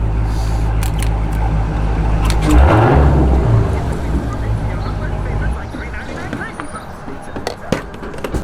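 A Dodge Hellcat with a mid muffler at a car meet, its engine roaring loud and close with a big surge in the middle before settling into a heavy rumble, voices and crowd noise around it.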